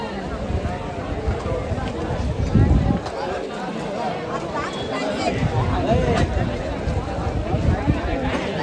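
A large crowd gathered at a birthday celebration in Badlapur, a continuous babble of many voices and movement close by, with a louder burst of voices midway.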